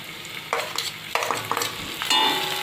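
Green chili and garlic thecha drops into a hot pan and sizzles, with repeated bursts of stirring and scraping as it fries. The sounds come up close and loud, and no one talks.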